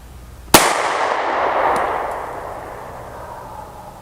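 A single loud gunshot fired at a target while aiming through a Crimson Trace RAD red dot sight on a CTS-1520 dovetail mount. A sharp crack is followed by a long, rolling echo that slowly fades outdoors.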